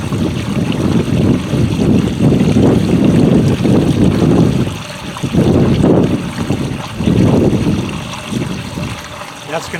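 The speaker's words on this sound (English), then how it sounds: "That's going to introduce air into the pump once again." Air gurgling and rushing into a pool pump as the water level drops while preparing the pool for closing, loud churning bursts that surge, briefly ease, then return in waves.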